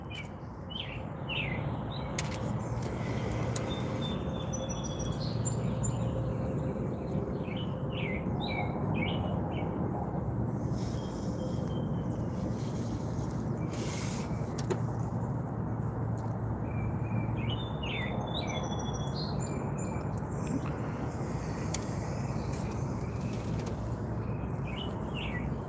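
A robin chatters with repeated short chirps and tweets over a steady outdoor background hiss, the calls coming in clusters throughout, fairly close and clear.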